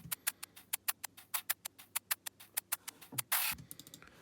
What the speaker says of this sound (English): Lastly, we have the second hi-hat loop,